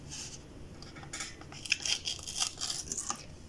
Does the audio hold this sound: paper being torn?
yes